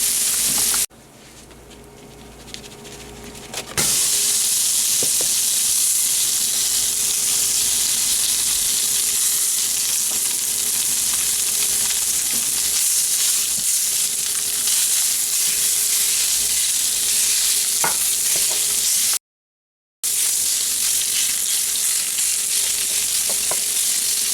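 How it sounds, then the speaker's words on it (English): Garlic sizzles in a pan as it is stirred while making lasagna, a continuous close frying hiss lasting throughout, with a brief quieter start and a short silent gap near the end. "I'm going to add in my garlic. I'm going to add in the garlic. Stir that in."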